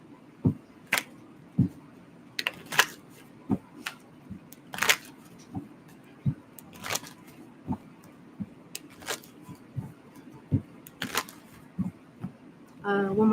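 Tarot cards are shuffled by hand in a series of crisp, regular riffles and taps, close and fairly loud, with a brief spell of other handling noise at the end.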